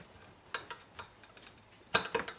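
Steak being set into a pan with a pile of peppercorns, giving scattered light clinks and taps of metal and pan, a few soft knocks then a denser cluster of clicks, close and quiet with no voices.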